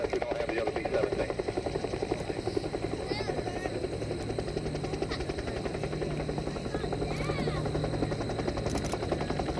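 A WWII PB4Y Privateer bomber passing over at an airshow, a steady, pulsing drone of piston engines and propellers, loud and sustained, with a person talking over it.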